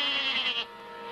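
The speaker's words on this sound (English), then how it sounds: "Well, maybe this lamb saw what happened to Reddy." A cartoon lamb gives a short, bright bleat, close and loud. It fades quickly into a quiet hiss.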